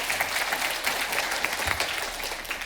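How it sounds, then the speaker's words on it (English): An audience at a marketing conference applauds, a steady wash of many hands clapping at moderate loudness throughout, with no speech over it. "So big round of applause for her and the team."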